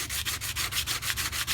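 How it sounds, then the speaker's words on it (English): An antique mortise lock is sanded by hand with very fine sandpaper, giving steady rhythmic back-and-forth scratchy rubbing strokes, close and fairly loud, with no voices. "and keep on sanding."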